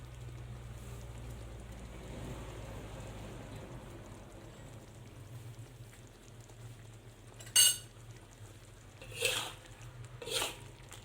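A utensil stirs crayfish curry in a pot, giving a soft wet simmer and a few sharp metallic scrapes and clinks near the end.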